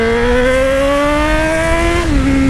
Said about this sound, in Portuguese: olha o jeito que essa moto tá berrando